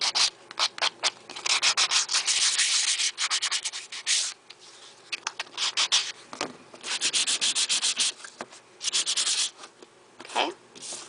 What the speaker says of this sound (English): I'm going to take a sanding tool and just sand it down a little bit.